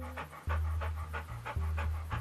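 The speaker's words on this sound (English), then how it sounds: "It's a puppy." A puppy in the video game Goldenheart pants in a steady, quick rhythm of about eight breathy huffs, close and clear, over a low droning game soundscape.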